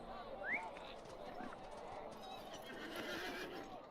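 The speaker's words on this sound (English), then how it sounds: "Let me also pull up a mount. Steed of the Eldar." A Steed of the Eldar mount in the Lord of the Rings Online game lets out a brief rising whinny early on, followed by soft hoof clops over a dense layer of ambient game sound.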